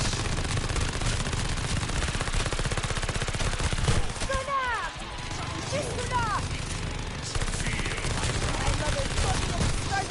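Machine gun fire in Call of Duty: Vanguard hammers away in continuous rapid bursts, loud and close, briefly easing midway while a voice speaks under the clatter.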